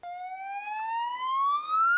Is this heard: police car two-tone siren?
yes